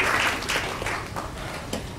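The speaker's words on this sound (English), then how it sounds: "So do give them a warm round of applause for taking the trouble to come for this." A competition audience gives a warm round of applause for out-of-town competitors, the clapping strongest at first and then tapering off with a few scattered late claps.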